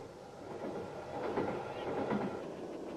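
A steam train travels west on the rails with a soft, steady rumble and faint rhythmic clicking, heard quietly and at some distance.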